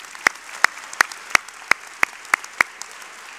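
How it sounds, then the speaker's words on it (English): Sparse, distinct claps ring out at the 2012 Ashworth College graduation for the speakers, about eight sharp single hand claps spaced unevenly, with quiet in between. "First, again, a round of applause to both of them."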